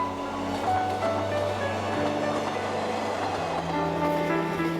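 A Gyeongchun Line train rolls along the rails in a steady, loud, continuous rumble with sustained humming tones and no break in the noise.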